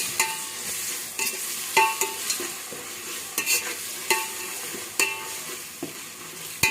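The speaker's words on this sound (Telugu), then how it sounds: "అల్లం వెల్లుల్లి పేస్ట్ మాడకుండా స్లోగా బాగా కలుపుకుంటూ మంచి స్మెల్ వచ్చేంత వరకు వేయించుకోండి" Ginger garlic paste frying in a pan while a spoon stirs it slowly, a steady close sizzle broken by repeated scraping strokes at an irregular rhythm, with no talking.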